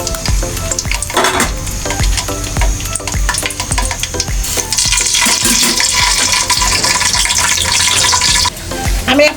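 Chopped onions and green chillies fry in hot oil with whole spices for chicken khichuri, giving a loud, continuous sizzle broken by scraping stirs and the clatter of a pan.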